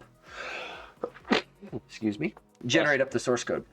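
A single short, noisy sneeze bursts out at the start during a programming pair session, followed by a person speaking.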